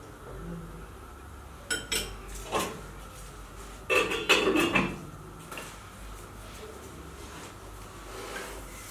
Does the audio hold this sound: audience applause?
no